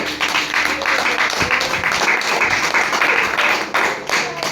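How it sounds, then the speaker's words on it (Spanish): A church congregation claps for the Lord, a dense steady patter of many hands filling the room, fairly close, with faint voices mixed in. "Un aplauso al Señor."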